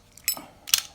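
Pliers picked up from a workbench while installing a pinion gear on a Losi 5ive-T 2.0 RC truck, two quick bright metallic clinks close to the microphone.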